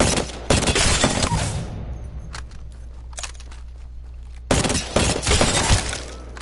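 Burst-fire gun in Apex Legends, loud sharp volleys of rapid shots at the start and again near the end, with scattered single cracks and faint clatter in the quieter middle stretch.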